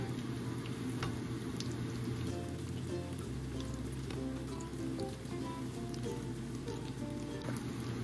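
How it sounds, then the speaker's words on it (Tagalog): Lumpia spring rolls sizzling in hot cooking oil, a steady close crackle and hiss that runs on without a break and is not covered by any talk. "mag-add tayo ng ating lumpia dito sa ating mantika. Mainit na siya."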